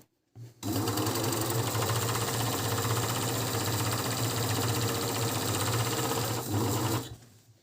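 An Agat DonLock overlock sewing machine runs continuously, stitching gabardine fabric, with a loud, even mechanical whir and rapid needle chatter that starts abruptly and stops after about six seconds.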